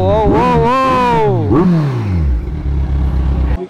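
A custom-built motorcycle's engine revs in a few quick rising and falling bursts, loud and close, then settles to a rough idle.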